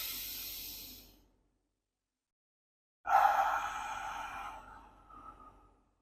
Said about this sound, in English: So I like to breathe in from my nose and breathe out from my mouth.